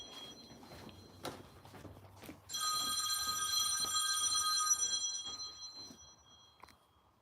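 A telephone rings with a bright, trilling electronic bell that starts suddenly, holds loud and steady for about three seconds, then fades out, with a few faint knocks and shuffles around it.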